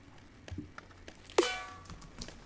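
A layered snare drum sample processed with compression, EQ and a bit crusher for clipping, heard as one sharp, loud crack that rings out briefly, with a few faint softer hits around it.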